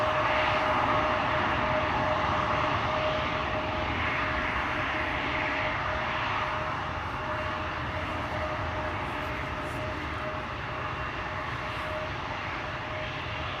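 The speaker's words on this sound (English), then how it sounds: "another Embraer 175 over here, which is going to go to Zurich" An Embraer 175 airliner at Schiphol Airport gives a steady, sustained engine roar with a faint constant whine, moderately distant and slowly fading, with no voices.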